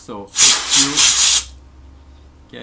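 Three short hissing bursts of liquid spraying out of a vape cartomizer in quick succession, close and fairly loud, with a brief voice just before and a click at the end.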